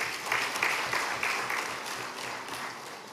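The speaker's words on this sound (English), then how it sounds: "Let's give another round of applause." An audience applauding steadily at a parliamentary orientation for members-elect, a dense wash of clapping that holds for a few seconds and begins to taper.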